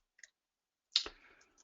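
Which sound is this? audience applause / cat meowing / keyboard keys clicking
keyboard keys clicking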